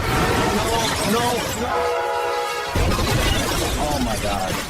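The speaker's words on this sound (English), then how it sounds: "Is that a train? It's the Metra at our party." Metra commuter train passing, a continuous loud rumble with a brief sustained horn-like tone in the middle, while people talk and exclaim throughout.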